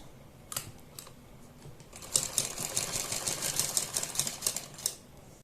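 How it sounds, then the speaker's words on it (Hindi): A sewing machine stitches along the neckline of a garment, starting with a few short isolated runs, then settling into a rapid, continuous mechanical rattle of needle strokes up close, stopping abruptly near the end. "हम दूसरी साइड गले के सिलाई लगाते हैं।"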